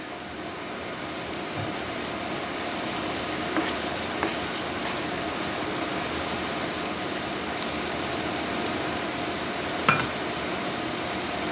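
Minced garlic sizzling in a hot pan as the base of a Calabrian chili tomato sauce for scallops, a steady close crackling fry with a few soft clinks and stirring scrapes.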